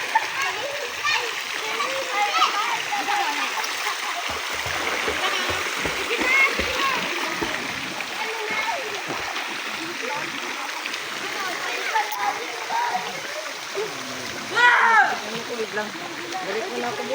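Children play in a swimming pool, sliding and splashing into the water amid continuous splashing and chatter, with kids' voices and adult talk throughout and a louder splash near the end.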